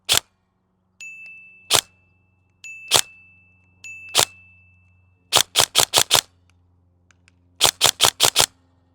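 An airsoft rifle firing at a target, with sharp cracks that come first singly and then in quick bursts of four or five, each shot followed by a faint metallic ring, close and loud.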